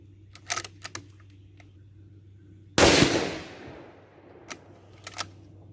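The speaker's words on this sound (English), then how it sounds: "Okay, shooting another shot." A single loud rifle shot fired during a scope tracking test outdoors, a sharp crack near the middle followed by a decaying rumble, with a few light clicks and handling noises before and after.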